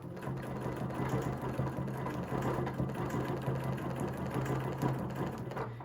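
A sewing machine runs steadily while stitching in the ditch with a ruler foot on a quilt, its fast even mechanical whir and hum continuing close and unbroken without any voices.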